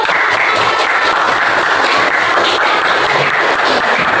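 A group at an academic coaching session claps loudly and continuously, a dense, even patter of hands filling the space without pause.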